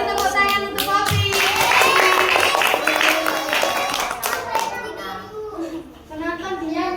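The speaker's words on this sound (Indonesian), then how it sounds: "Beri tepuk tangan untuk kopi" Children in a Ramadan class clap together for a classmate, a dense burst of hand claps mixed with young voices chattering over it, fading toward the end.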